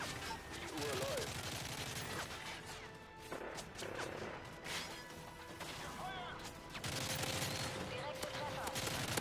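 Rapid bursts of gunfire crackle repeatedly over a busy, mixed background in Call of Duty: Modern Warfare 3 split-screen co-op on Xbox 360, shots coming in clusters.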